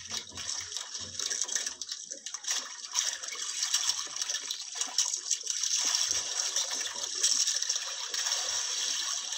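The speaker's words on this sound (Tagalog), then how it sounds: "maingay yung tubig ng dagat" Rough sea water churns and splashes continuously, a loud, close, noisy wash with no voices.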